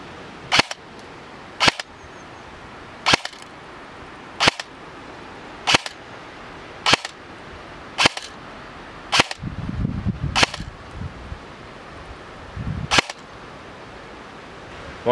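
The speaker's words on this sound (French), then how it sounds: "Bon, alors on va commencer le test de tir." A King Arms SVD Dragunov airsoft electric gun fires single test shots at about eight evenly spaced sharp cracks, each loud and near, with a brief mechanical whir in between.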